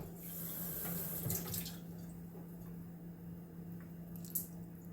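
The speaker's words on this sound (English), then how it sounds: "I like to do some nice cool water with the cornstarch mix." Cool tap water runs into a cornstarch mix for orange chicken, a close, steady splashing stream over a constant low hum, with a brief burst of louder splashing partway through.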